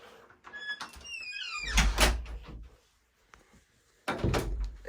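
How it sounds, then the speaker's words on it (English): An electric garage door at a 2009-built single-story house in Albany, Oregon sounds off in a few short bursts: a squeak and rattle early on, then heavy thuds and a final loud clunk, with a quiet pause between. "You have an electric garage door."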